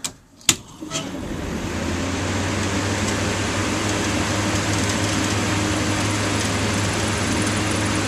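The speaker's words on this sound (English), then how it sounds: "I told you about the exhaust fan" Exhaust fan aboard a boat running steadily, a constant low droning hum with a whirring hiss that stays even and close after a brief knock at the start.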